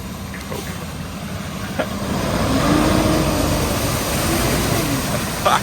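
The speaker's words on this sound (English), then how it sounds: "Let's see this truck." A truck drives through a deeply flooded road, its engine rumbling low and steady while water swishes and churns around it, the sound swelling as it draws nearer.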